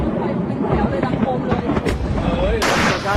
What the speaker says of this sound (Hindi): बॉर्डर से सटे इलाके में दोनों तरफ से जबरदस्त फायरिंग हो रही है।